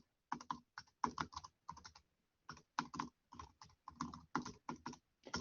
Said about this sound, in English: So I'm going to type this.